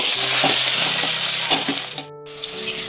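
Fish sizzling and spitting as it fries in oil in a home kitchen pan, a steady loud crackle with stirring clatters and a brief running tap near the end.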